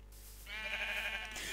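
A sheep in a survival video game gives one drawn-out bleat, clear and close, rising after a short quiet lead-in and lasting about a second.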